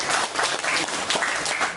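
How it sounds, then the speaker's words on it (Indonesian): Audience applause at an indoor presentation in Indonesia, a brief burst of dense, lively clapping from a crowd with a faint voice underneath. "Kita beri tepuk tangan juara dunia."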